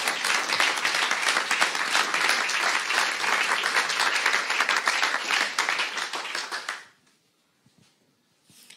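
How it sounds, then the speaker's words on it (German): Loud audience applause at a security conference closing event, thanking the heralds and stage managers, dense clapping holding steady for several seconds before cutting off into near silence with a few stray claps. "Ihr müsstet auch nochmal unbedingt einen großen Applaus geben für unsere Heralde und Stage Manager"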